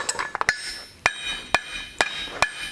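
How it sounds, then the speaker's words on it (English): A rounded-face hammer taps texture into a forged metal Art Deco bookend, about eight sharp, ringing metallic strikes at an irregular pace, close and clear with no talking. "here I am just using my hammer to give texture to every square inch of the surface, and just random taps with this nice rounded face hammer"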